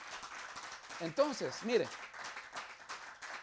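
A church congregation at a Sunday communion service keeps up a faint, steady patter of applause beneath someone speaking Spanish close to the microphone.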